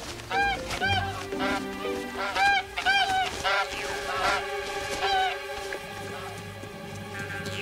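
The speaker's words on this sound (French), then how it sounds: "Oh, des oies sauvages." Wild geese honking repeatedly in a loud, overlapping chorus, with a few quacking calls mixed in and a low background rumble.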